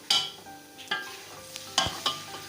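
Three large chopped onions in plenty of oil for chicken biryani, heard as a low background sizzle broken by several sharp spatula scrapes and knocks against the pot, with no talking.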